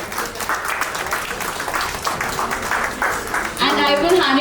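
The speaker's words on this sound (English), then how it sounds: "Please give her a huge round of applause." An audience applauds a panel moderator called to the stage at a leadership talk, a busy patter of clapping that carries on until a voice starts speaking over its final second.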